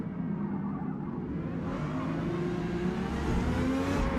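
Race car engine in Forza Motorsport accelerating, a steady loud roar that rises in pitch over about four seconds, with no talking.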